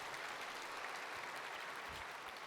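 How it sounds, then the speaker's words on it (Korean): A church congregation applauds during a sermon, a steady, even wash of many hands clapping that sounds distant and fairly soft and lasts throughout without a break. "박수 한번 쳐야 되지 않아요?"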